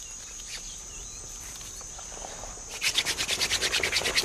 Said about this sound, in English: hand drill for firelighting